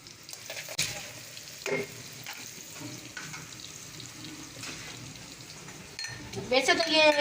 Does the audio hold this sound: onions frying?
yes